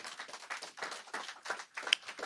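Audience clapping at an induction ceremony, a modest scattering of hand claps in irregular rhythm, fairly faint and sparse.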